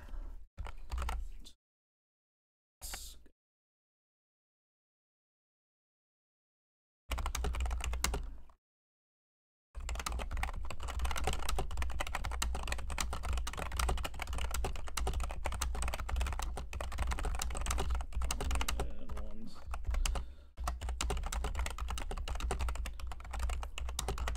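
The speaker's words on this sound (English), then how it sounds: "I'm just typing a message to Tony, seeing if he'll respond." Rapid clicking keystrokes on a computer keyboard come in short bursts separated by silent gaps, then a long, dense stretch of continuous close typing with no speech.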